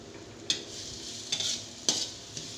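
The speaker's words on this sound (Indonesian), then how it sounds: "Kita tumis dulu bumbunya sampai harum." Spice paste for chicken bone soup sautés in a pan, a steady close sizzle broken by a few sharp scrapes and stirs of a utensil, with no talking.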